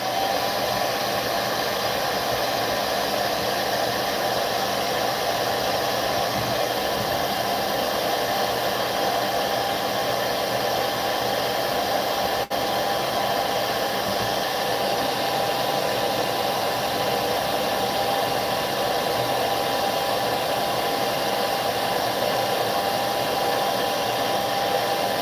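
A hair dryer runs steadily for the whole stretch to heat-set freshly airbrushed fishing bait, a loud constant whooshing blow with a faint motor hum and no talking.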